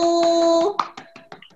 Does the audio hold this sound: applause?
yes